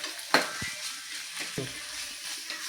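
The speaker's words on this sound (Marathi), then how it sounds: "मिनिटभर हे छान परतून घेऊयात" Ghol (purslane) greens sautéing in a spiced oil tempering, a gentle sizzle broken by a few scraping stirs and light clinks, with no voices.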